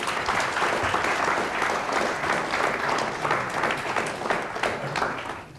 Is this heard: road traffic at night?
no